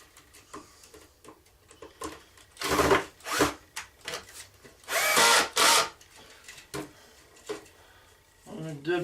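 Power drill driving screws into wood while building a DIY gem sieve in a shed, heard as several short, loud whirring bursts separated by quieter handling noises and pauses.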